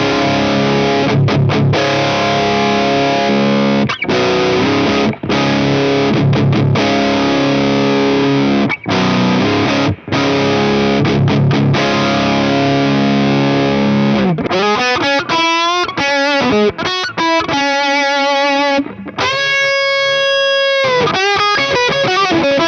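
Metal-bodied Pearson Hyper B electric guitar played through high-gain distortion, with chugging palm-muted riffs and abrupt stops giving way to squealing bends and fast lead runs, loud and alone.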